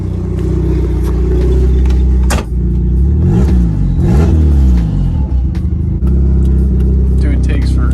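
A turbocharged Mazda Miata with a fresh flex-pipe exhaust install revs hard while driving, a loud close engine drone rising and falling through several gear changes with brief drops between pulls, and a voice talking over it.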